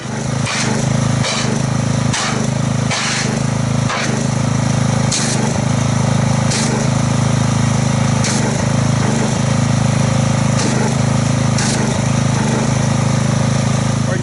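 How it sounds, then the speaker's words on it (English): A gas pressure washer engine drones steadily and loudly throughout, with repeated brief bursts of spray as car wash soap is agitated into foam; no one speaks. "let me get the pressure washer and let's agitate this and see if we can get any foam out of it"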